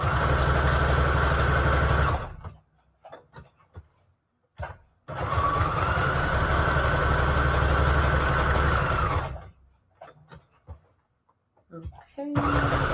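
Sewing machine stitching fabric scraps with an overly long stitch, running in two steady bursts of a few seconds each, separated by handling noises and clicks, with a final short burst at the end.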